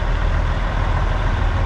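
A Cat-engined semi truck, truck number 120, pulls out with a Titan walking floor trailer, its loud, steady low engine rumble droning close by without a break, no voices.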